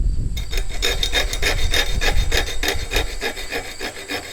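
Hand saw teeth being sharpened with a file at a steep angle, giving a steady run of rhythmic rasping strokes, close and loud, with no talking.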